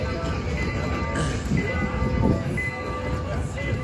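A train rumbles past beside International Drive in Orlando with a continuous low roar and steady rattle, some metallic squeal above it, busy street ambience and voices mixed in.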